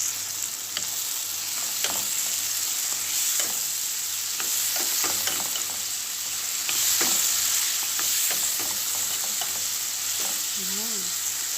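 Food fries in a pan as soy sauce is added, a constant bright sizzle with scattered clinks and scrapes of stirring, close and steady without talk.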